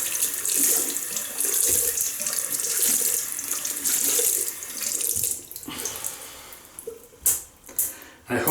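Cold water runs from a tap over a wet shaving brush, a steady close splashing hiss that fades out near the end into a few brief clattering knocks.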